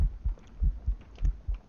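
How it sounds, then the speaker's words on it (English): Heartbeat in the video game We Happy Few, six deep, muffled thumps arriving in an even pulse of roughly paired beats, low and throbbing, with nothing else over them. "Oh, I can hear my heartbeat."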